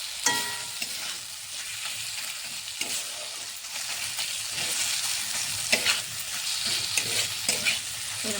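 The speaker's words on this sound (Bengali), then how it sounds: "এরকম করে 1 থেকে 2 মিনিট একটু ভেজে নিব মশলার উপরে।" Spices fry with puti fish in a pan: a strong, close sizzle and hiss throughout, broken by repeated scraping stirs of a utensil against the pan, no voices.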